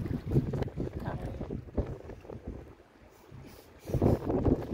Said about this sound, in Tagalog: Malakas talaga yung hangin guys.